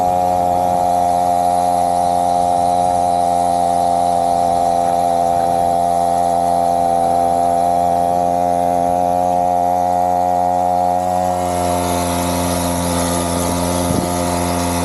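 A clapped-out pocket bike engine idles high and steady, a loud, buzzing drone with strong even harmonics that runs unbroken close by, shifting slightly in tone near the end.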